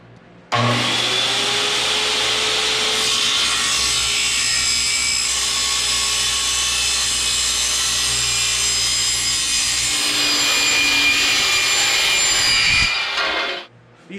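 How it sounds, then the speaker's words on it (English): Cold saw slicing through a steel trailer fender, a loud steady grinding cut with a ringing whine that runs for about thirteen seconds before stopping abruptly, no talk. "So this is a cold saw. When you're cutting, it doesn't even get hot."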